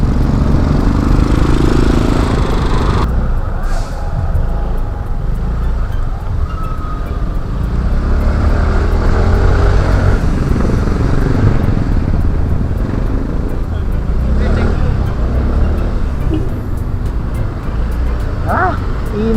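Road traffic from a moving motorcycle, a continuous rumbling wash of engines and wind noise with passing vehicles and a brief horn-like tone, heard up close.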